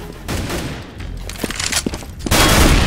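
AK rifle fire in the video game Counter-Strike, a burst of sharp, rapid gunshots mixed with other game noise and louder crackling toward the end, heard alongside match commentary.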